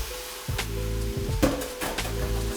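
Minestrone vegetables are stirred in a soup pot, giving a soft sizzle with scraping spoon strokes against the pot over a steady low hum, several scrapes spaced through the stretch.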